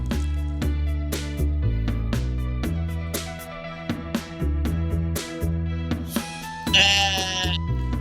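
Sheep bleat in the Stardew Valley farming game, several short calls recurring over steady game music, with a louder, higher bleat near the end.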